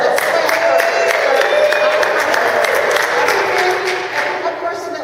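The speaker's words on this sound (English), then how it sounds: "So let's clap for" Audience at a Nerium regional sales event in Kansas City clapping and cheering loudly, a dense sustained wash of applause with whoops and shouts throughout, easing slightly near the end.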